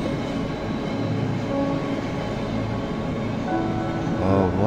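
A steady, rumbling train in the video game Cry of Fear runs continuously with a droning mechanical hum and faint rhythmic clatter, with a brief whistle-like tone near the end.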